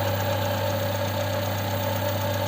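A Hyundai Accent GLS engine idles steadily after an ignition coil replacement, an even, close, continuous hum with a fine rapid pulse and no voices.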